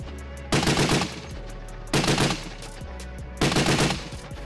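Machine gun fire from Stryker vehicles on a modified gunnery lane during a combined arms exercise with the Royal Thai Army: three loud bursts of rapid automatic shots, each about half a second, spaced roughly 1.5 seconds apart, with ringing echo between.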